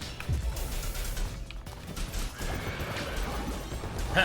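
A seahorse enemy in the video game CrossCode gives a horse-like neigh and whinny rising over a busy, noisy game soundscape with clattering effects in the background.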